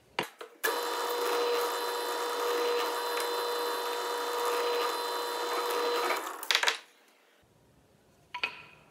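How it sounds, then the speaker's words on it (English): Drill press boring holes with a 1/16 inch bit, a loud steady whine lasting about six seconds, then winding down, followed by a brief clatter near the end. "I'm gonna drill these two holes and then these two holes."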